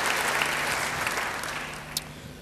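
A church congregation applauds during a sermon, with dense, steady clapping that fades slightly toward the end, a single sharp clap standing out near the close.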